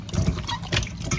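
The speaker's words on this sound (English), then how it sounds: "we're just going to pour some water on it and wash it off" Water is poured over raw turkey necks being rinsed after a white vinegar wash, a short close splashing and gurgling burst lasting just over a second.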